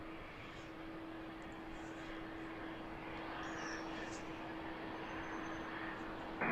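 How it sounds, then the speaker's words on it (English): A UPS cargo plane taking off at night at Harrisburg airport, a steady broad jet engine roar with a constant whine, heard from a distance and swelling slightly louder toward the end. "before the first cargo plane takes off"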